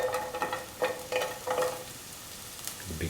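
Sliced big onions fry in a pan for spinach rice, giving a steady close sizzle with soft scraping stir strokes rising at intervals and a tonal hum underneath, no talking.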